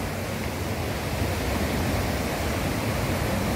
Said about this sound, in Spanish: vamos al principio de la cascada